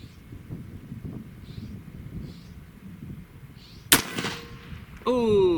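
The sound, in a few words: Zeus .72 caliber air rifle shot at gopher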